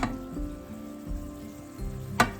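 Ground beef sizzles and spits in a greasy pan, a steady close frying hiss with occasional scrapes of a utensil against the metal.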